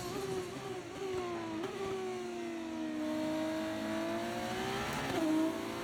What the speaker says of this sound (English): When downshifting, these sound so nice. Yeah, the backfire sounds awesome on them.